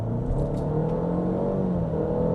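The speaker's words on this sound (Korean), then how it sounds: "신호 바뀌었는데 가속 한번 해볼까요?" Cadillac XT4 four-cylinder engine accelerating from a traffic light, heard from inside the cabin as a steady low rumble with a rising engine tone.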